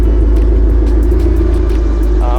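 A 900hp Ford Boss 302 engine idles through a stainless Corsa exhaust with an X-pipe, a loud, deep, continuous rumble close to the car with no voices.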